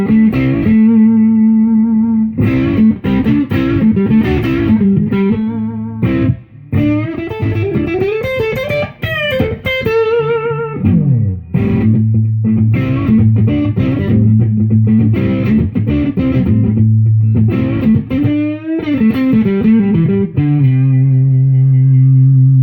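Chinese-made Fender Telecaster played through a Boss DS-1 distortion pedal, giving loud, continuous, sustained overdriven chords and bending single notes with a thick, saturated tone, heard alone with no talking.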